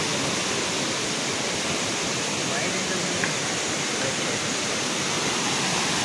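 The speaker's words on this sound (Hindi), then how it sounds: "एक झरना इधर, एक झरना इधर," Two waterfalls at Fish Point in Mainpat pour with a continuous, loud, even roar of rushing water that fills the whole stretch without pause.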